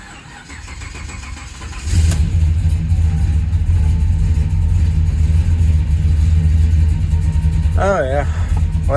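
A 1972 Chevrolet El Camino with an LS engine swap cranks over briefly and catches, then settles into a loud, close, rumbling idle with some revving, while a voice speaks over it near the end.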